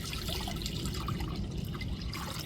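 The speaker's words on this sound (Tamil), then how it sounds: "இப்போ அந்த பாலை இதில் ஊற்றிக்கிடுவோம்" One litre of milk poured from a vessel into a cooking pot, a steady continuous liquid gush lasting a couple of seconds, close and alone with no talking.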